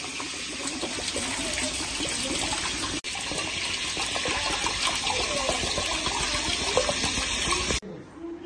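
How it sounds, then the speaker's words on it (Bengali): Coconut water pours steadily from a cut green tender coconut, a continuous splashing, gushing stream heard close and fairly loud for nearly eight seconds before stopping abruptly. "এবারে জলটা ঢেলে নেবো।"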